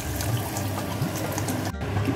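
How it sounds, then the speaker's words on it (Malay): Tamarind water poured into a cooking pot of fish-head asam pedas curry, a loud continuous splashing rush of liquid with a brief dip near the end. "kita terus masukkan air asam jawa secukupnya"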